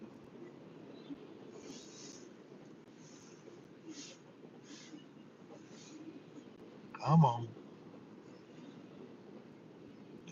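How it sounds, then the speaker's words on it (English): A long train rumbles past at a distance as a steady low drone with faint clanking overtones, while a person speaks briefly over it. "Long train, guys."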